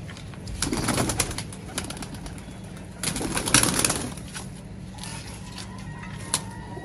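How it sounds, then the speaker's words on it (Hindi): Zeeria tournament pigeons coo in a loft in soft, low rolling calls, with a couple of louder swells and some rustling or wing movement nearby, with no talking. "ये मेरे जीरिया कबूतर हैं।"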